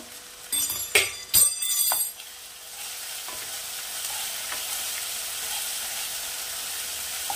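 A spoon stirs prawn curry with chilli powder, turmeric and salt in a pan, giving a few brief clattering scrapes, then a soft, steady sizzle that carries on alone.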